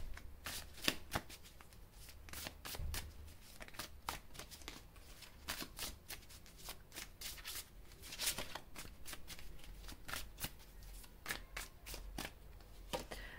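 Tarot cards being shuffled for a reading, a rapid run of crisp riffling flicks and soft slaps, close and fairly quiet, continuing steadily without talk.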